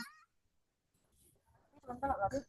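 Cartoon cat meow from a Scratch coding project: a short harmonic cry at the very start, followed by near, muffled voices talking over the rest.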